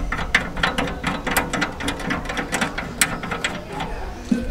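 A ratchet wrench clicks in quick repeated bursts while tightening the mounting bolts of metal panniers on a Bajaj Dominar 400 motorcycle, close and fairly loud.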